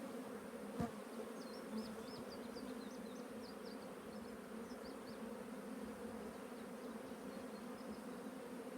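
Honey bees buzzing steadily from an opened bee colony, a dense continuous close hum with occasional louder individual bees passing near, and a single sharp knock near the start.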